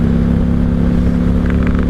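A 1995 Honda Shadow VLX 600 VT600CD V-twin engine runs hard at full throttle in fourth gear, a loud, steady, thrumming drone heard up close from the rider's position.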